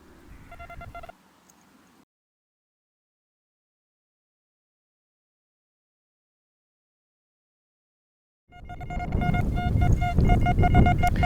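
Metal detector beeping over an ancient coin in a UK field: a short burst of electronic tones, then silence, then a longer, louder warbling tonal signal with noisy rustle underneath, no clear talk.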